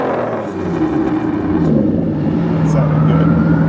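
Aston Martin V12 Vantage with secondary catalytic converters deleted, its engine revving loudly and close, a deep throaty roar climbing steadily in pitch, with voices underneath.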